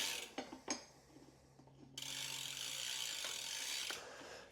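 A wrench tightens BMX bike pedals onto the cranks, giving a few sharp metallic clicks and then a sustained close ratcheting whir for about two seconds, alone without talk.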